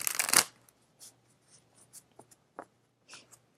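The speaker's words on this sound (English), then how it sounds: "one more shuffle" Tarot cards being shuffled by hand, a quick riffle burst at the start followed by a few soft, scattered card slides and taps in a quiet room.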